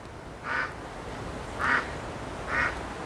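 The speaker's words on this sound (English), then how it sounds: "Duck telling me he wants to go down to the dam" A small pet duck quacks in a cold garden: three single, clear quacks spaced about a second apart, moderately close, over a soft background hiss with no talk.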